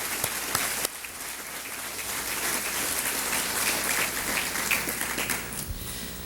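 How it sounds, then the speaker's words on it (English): A banquet crowd at a Lincoln-Reagan political dinner applauds steadily after being asked to stand, a dense, sustained wash of many hands clapping that fills the room throughout with a few louder claps near the start. "Let's give Walker and his wife a round of applause"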